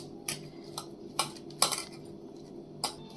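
Hot boiled potatoes being mashed in a bowl for sesame potato bajji, heard as a series of sharp metallic clinks and scrapes of a utensil against the dish, spaced irregularly about every half second, fairly close and without talk.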